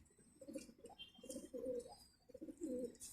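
Pigeons returning to the loft coo in repeated low, throaty phrases, soft and fairly close, with faint chirps and light rustling around them and no talk.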